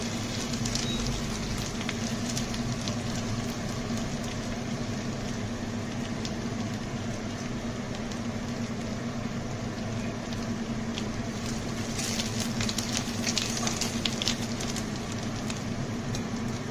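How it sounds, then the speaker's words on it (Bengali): Chopped ginger fries in oil for a Bengali chana dal, a steady, fairly soft sizzle with occasional crackles and no speech. "একটু ভাজা ভাজা হবে"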